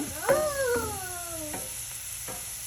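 Food sautés in a cast iron skillet while an omelette is being made, giving a soft steady sizzle under a high, whining, howl-like tone that slides downward.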